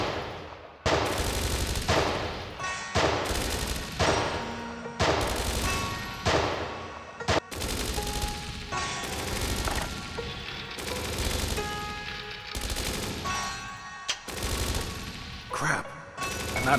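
Rapid bursts of gunfire from the video game Dreams of Another repeat in sharp, loud volleys separated by short pauses, continuing throughout with other game sounds in between.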